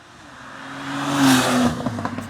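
A modified Porsche 911 Turbo S engine revs up, its pitch climbing to a loud peak before dropping back and settling into a burbling idle with a few crackles, close by with no one talking.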